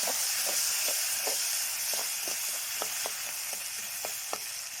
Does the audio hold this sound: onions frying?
yes